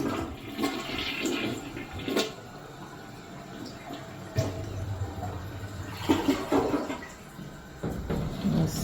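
A toilet in a house flushes with a rushing gurgle of water, followed by refill trickling and a few hollow clunks from the tank, heard close in a quiet room.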